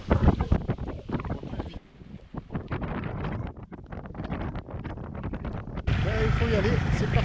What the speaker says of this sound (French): Là il y a un grain qui passe avec un vent, truc de fou.